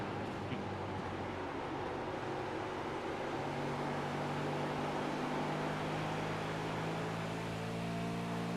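Several V8 supercars in a racing video game roar together in a steady, continuous engine drone with sustained tonal whine, loud and unbroken throughout, with no talk.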